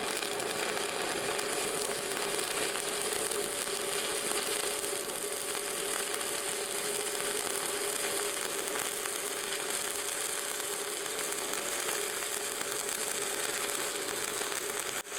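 Arc welding on thick steel plate, with the electrode weaved in a zigzag pattern: a continuous, even crackling buzz that holds steady at close range for the whole stretch, with no talking.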